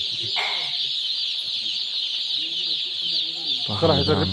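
A dense, steady chorus of young broiler chicken chirps and clucks fills a poultry shed, with a voice breaking in briefly near the end.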